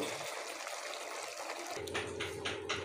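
Mushroom masala gravy simmers in a pan with a soft, steady bubbling hiss that swells slightly louder toward the end, with no talk over it.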